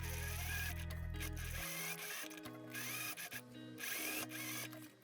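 A sewing machine stitches a dress seam, its motor whirring loudly at first and then running in shorter uneven bursts up close.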